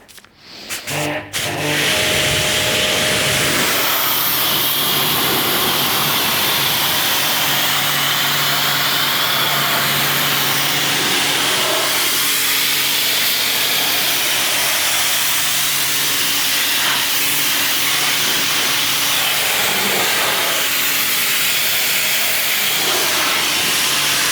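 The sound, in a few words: rinsing a Lamborghini Huracan with water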